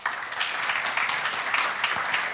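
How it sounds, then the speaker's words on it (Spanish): A church congregation applauds students enrolled in the ministerial institute, a dense even wash of clapping lasting a couple of seconds with no speech. "un aplauso para ellos, por favor, para los que están en instituto."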